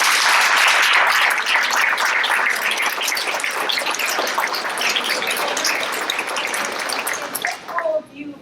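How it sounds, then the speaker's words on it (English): A room full of people at a community gathering breaks into loud, dense applause that keeps up strongly, then thins out and fades near the end. "why don't we give a rousing round of applause?"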